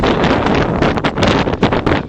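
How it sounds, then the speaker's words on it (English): Strong wind gusting outdoors and buffeting the microphone, a loud continuous roar with rising and falling surges throughout. "And it's windy."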